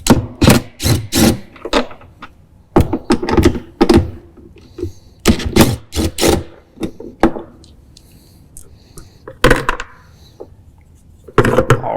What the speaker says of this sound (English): we take our 8mm socket and just remove these 2 bolts that hold it on